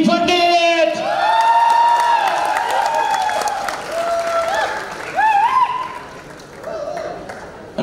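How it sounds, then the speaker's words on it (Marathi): Audience applause and cheering for actress Tejaswini Pandit at a film teaser launch event, loud and sustained with whoops rising over a reverberant hall, under an announcer's amplified voice. "जोरदार टाळ्या इवरवली तेजस्विनी पंडित."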